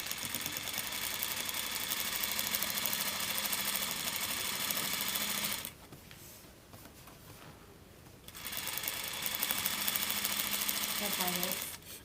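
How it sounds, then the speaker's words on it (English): A sewing machine runs steadily, stitching a pocket onto a jacket with a fast, even needle chatter, stopping for a couple of seconds midway before starting again, close and alone. "Now we're going to pivot around and sew the pocket."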